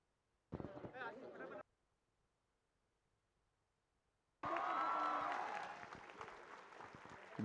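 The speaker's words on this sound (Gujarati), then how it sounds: "આપણે જોરદાર તાળીઓથી એમને વધાવીએ." An audience at a guest-honouring ceremony in Raysan breaks into loud, sustained clapping that fades slightly toward the end, after a brief, raised voice-like burst and a quiet pause.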